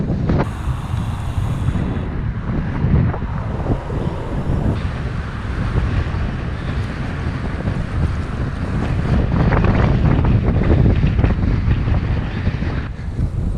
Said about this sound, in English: there is a nasty headwind